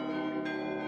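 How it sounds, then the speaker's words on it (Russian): Russian church bells ringing, a sustained faint metallic tone with layered harmonic overtones, a soft new strike blending in midway, no voices. "Российские колокола"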